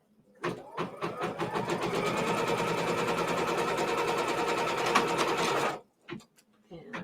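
A sewing machine stitches quilt fabric in a steady, fast, loud mechanical whir for about five seconds, then stops, leaving a few faint clicks and handling noises.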